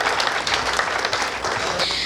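A crowd applauds steadily at a comic poetry gathering in India, a dense wash of many hands clapping throughout the short stretch.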